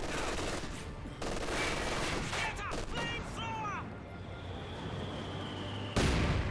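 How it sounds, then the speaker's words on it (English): Company of Heroes 2 battle with a mortar hit among Flamer Engineers and Grenadiers, dense continuous gunfire and explosions with whistling shell sounds, a sudden loud burst near the end, and a commentator talking over the action. "Good mortar hit on the Flamer Engineers."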